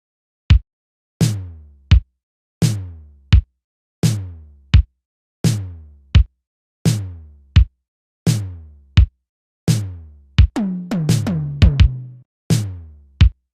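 Synth patch layered over a drum loop: punchy, sharply decaying hits with a deep low end fall in a shuffled pattern, getting busier with rapid repeated hits near the end, loud and alone.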